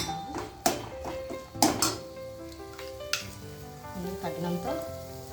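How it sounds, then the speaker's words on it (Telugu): Ghee sizzles in a pan as papaya halwa cooks, a soft steady frying hiss broken by a few sharp clinks of a spoon stirring against the pan. "మరి కొంచెం బాగా కలిపేసుకున్న తర్వాత కొంచెం నెయ్యి యాడ్ చేసుకున్నాము"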